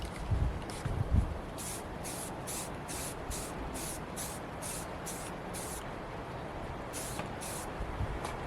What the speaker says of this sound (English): I'm gonna go ahead and spray paint this guy, this whole thing real quick.